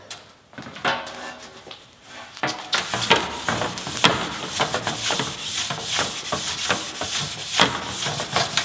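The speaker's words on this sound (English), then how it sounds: "And then a little Scotch-Brite." A metal part being scrubbed with a Scotch-Brite abrasive pad, close rapid rubbing strokes in an uneven back-and-forth rhythm after a quieter start.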